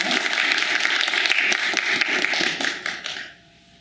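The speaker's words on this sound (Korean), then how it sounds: "우리 성가대를 다시 한번 박수할까요?" Dense applause from a church congregation for the choir, many hands clapping steadily before thinning out and fading to quiet at the end.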